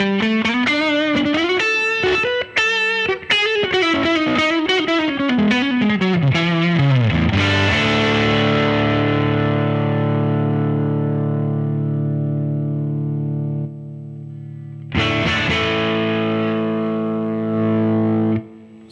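An electric guitar played through a Line 6 US Dripman bass amp model with drive gives a distorted riff of quick notes, then long ringing sustained chords that fade, and a second chord struck near the end.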